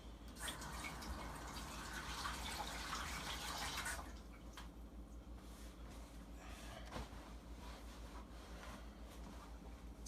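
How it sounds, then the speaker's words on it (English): Tap water runs and splashes steadily while hands are washed at a kitchen sink during homemade bacon cheese stuffed crust pizza prep, louder for the first few seconds and then continuing more softly with small drips and knocks. "Wash my hands real quick."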